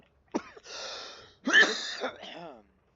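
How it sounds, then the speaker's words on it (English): A few harsh throat-clearing coughs, close and fairly quiet, in short bursts with a brief pause between them. "One of these days I'll get over this cough."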